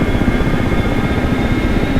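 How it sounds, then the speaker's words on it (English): Ka-50 twin-rotor helicopter in a video game, its rotors spinning up with a loud, steady engine whine and a dense low rotor throb that fills the whole moment without talk. "You can see the rotors started turning around."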